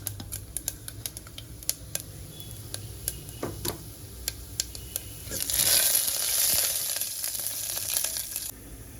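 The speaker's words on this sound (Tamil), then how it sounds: "இது இப்போ ஆயில் போட்டு கடுகு போட்டிருக்கேன்." Mustard seeds, two dried red chillies, urad dal and chana dal sizzle in hot oil in a home kitchen, with scattered sharp pops and crackles over a steady low frying hiss that swells louder for a few seconds midway.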